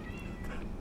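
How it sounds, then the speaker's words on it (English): Kittens meow indoors, a couple of short faint mews in the background over a low steady hum. "I do apologise if you can hear cats behind me."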